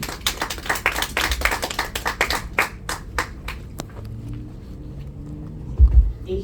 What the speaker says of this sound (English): A huge round of applause for Dr. Nika.